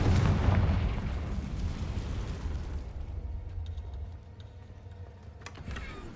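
A Confringo fire spell blasts in Hogwarts Legacy, a loud, heavy boom at the start that rumbles and slowly dies away, leaving faint game sounds and a few small sharp clicks.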